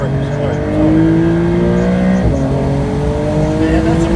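Race car accelerating hard on track during a hot lap at ECR, engine note rising steadily with a brief gear-change dip midway, loud and close from inside the car, with a voice talking over it.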